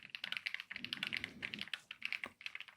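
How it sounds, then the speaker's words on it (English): Rapid keystrokes on a computer keyboard in an ASMR ear-exam role-play, close and crisp, coming in quick irregular bursts with brief pauses and no voices. "While I'm typing,"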